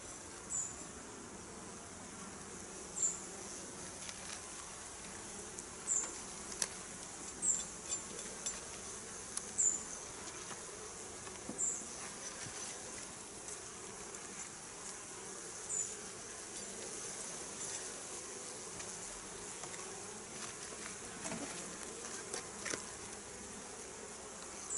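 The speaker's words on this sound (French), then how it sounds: "C'est une ruche qui est populeuse." Honeybees buzz steadily in a populous hive being opened for winter preparation, a continuous close drone with occasional individual bees flying past the microphone.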